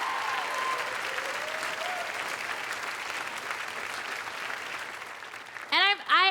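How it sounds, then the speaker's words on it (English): Audience at a comedy show applauding, a dense wash of clapping that holds steady for several seconds before a voice cuts in near the end. "Give yourselves a round of applause for being so beautiful,"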